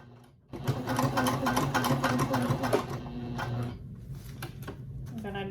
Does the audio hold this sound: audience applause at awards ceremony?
no